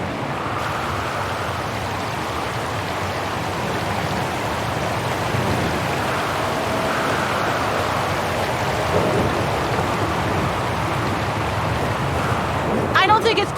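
Thunderstorm in the game Syberia: The World Before, a steady wash of heavy rain with low rolling thunder rumbling throughout, loud and continuous, ending in a few sharper crackles.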